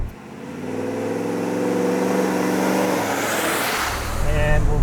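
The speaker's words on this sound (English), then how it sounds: "For power, as always with the BRs, we're running the Coyote 5-liter aluminum fuel injected V8" A Ford Coyote 5-liter aluminum fuel-injected V8 in a restored 1970 Ford Bronco runs close by, its pitch sweeping down and then climbing again as it revs, loud and throaty.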